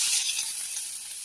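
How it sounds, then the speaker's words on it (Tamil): Onions frying in a little oil in a kadai give off a steady, bright sizzling hiss that eases off slightly over about a second, with no voices. "அதுக்கு ஒரு கடாயை வச்சு கொஞ்சமாக எண்ணெய் ஊற்றி வெங்காயத்தை போட்டு"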